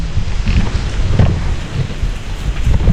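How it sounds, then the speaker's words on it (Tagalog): Heavy rain pours with blustery wind buffeting the microphone, a loud rumbling wash with no voices. "Ay, ulan."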